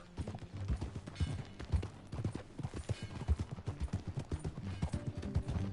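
Steady clip-clop of horse hooves on hard ground, a quick continuous rhythm of close, sharp knocks throughout.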